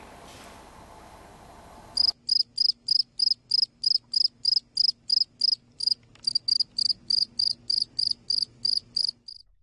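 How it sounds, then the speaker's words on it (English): Crickets chirp in a steady, evenly spaced rhythm of about twenty loud, clear pulses, with no talk, after a short stretch of soft background noise. "All I heard was crickets."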